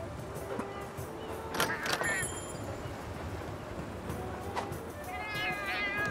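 Cat meows from a video game come through several short, bright mewing calls spread across the clip over a busy background of game effects and music.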